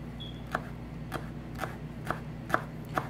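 Knife chopping fresh mint leaves on a board, six evenly spaced crisp taps about half a second apart, close and clear over a quiet background.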